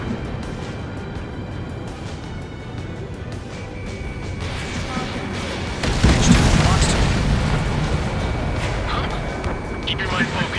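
Missile striking its target in the Ace Combat 7 jet combat game, a loud booming blast that swells midway over steady jet roar, with radio voices speaking throughout.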